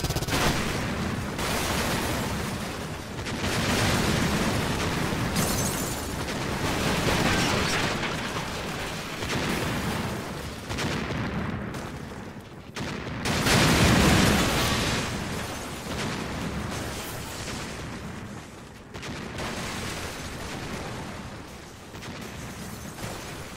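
Explosions and gunfire in the World War II tactical video game Silent Storm: continuous dense blasts and bursts rolling on loudly for the whole stretch, with a heavier boom near the middle.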